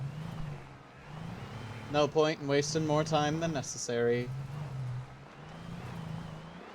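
A car driven in the video game Alan Wake hums with a steady low engine drone throughout, and someone speaks over it in the middle.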